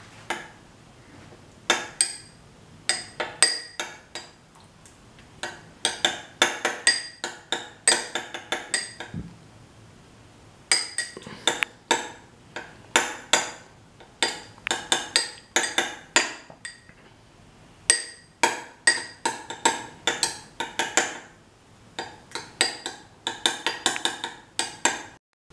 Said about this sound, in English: Then squash the tomatoes and make it into a mushy paste.